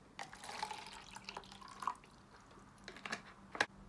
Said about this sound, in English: Put water in the cup